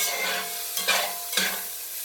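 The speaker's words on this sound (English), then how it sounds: "we're gonna give our veggies a stir" Sautéed vegetables for gumbo are stirred in a pot, with two distinct scraping swishes over a soft background sizzle.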